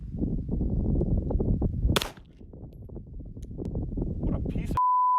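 A pistol fires one sharp shot during a NYPD trigger pull test, set among ongoing talk by several people, followed near the end by a steady electronic beep.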